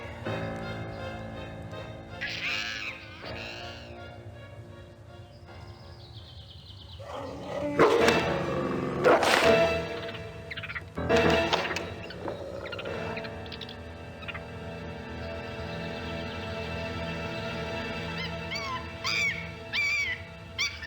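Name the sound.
wolf barking and whimpering, from the video game Gabriel Knight 2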